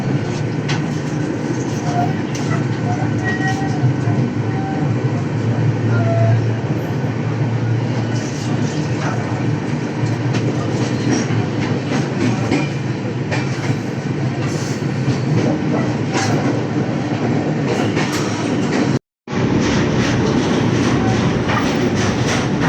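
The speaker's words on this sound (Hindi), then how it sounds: "वाराणसी से निकलने के बाद हमारी ट्रेन जो आगे निकल चुकी है" A passenger train, the 15231 Barauni to Gondia express, rolls on after leaving Varanasi, with a loud continuous rumble of wheels and carriage noise and faint rhythmic clacking, heard from on board throughout with a momentary dropout near the end.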